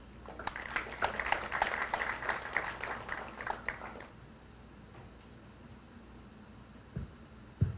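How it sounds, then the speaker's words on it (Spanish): An audience at a law faculty event at the Universidad Nacional de Piura applauds to welcome a speaker. The clapping is moderately distant and lasts about four seconds before fading into room noise, with a few stray thumps afterward. "quien recibimos con un voto de aplausos"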